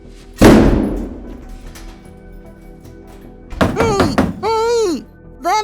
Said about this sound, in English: Toni and Troy jump out 10 feet away from the door, and it slams shut and locks itself